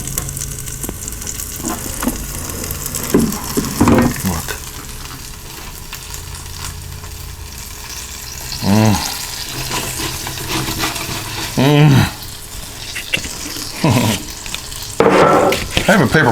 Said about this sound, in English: Can you hear them sizzle?